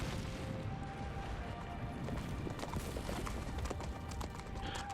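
Horse hooves galloping in the Shadow of the Colossus remake on PS4, a steady rapid clip-clop under a dense, busy game soundscape that stays loud and continuous throughout.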